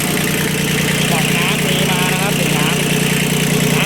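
Kubota B1400 two-axle tractor, an old Japanese import in good condition, with its diesel engine idling steadily and loudly nearby while someone talks over it.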